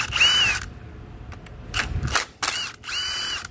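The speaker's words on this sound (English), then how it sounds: "get every single Torx 30 bolt loose in here" Short whirring bursts from a power tool loosening Torx 30 bolts on a Ford 6F35 transmission, several separate spins with pauses between, close and moderately loud.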